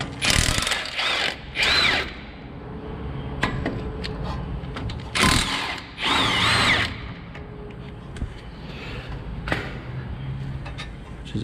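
A power tool loosening the two 17mm brake caliper bolts on a Toyota Tacoma front hub, with short loud whirring bursts broken by clanks of metal tools and parts being handled.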